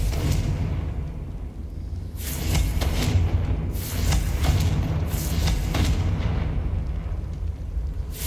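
Repeated booming fire-spell explosions in the Hogwarts Legacy video game, with several loud broadband blasts over a constant rumbling backdrop and no talk.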